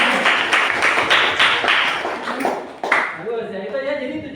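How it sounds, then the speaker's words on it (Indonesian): Clapping hands in a classroom coaching session, a group applauding a participant named Kera with a steady patter of claps that thins out after about three seconds, with voices talking over it. "Tepuk tangan untuk Kera."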